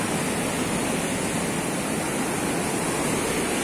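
Rough ocean surf at Desert Point breaks in a continuous, loud, close roar of churning water and spray, steady throughout with no voices.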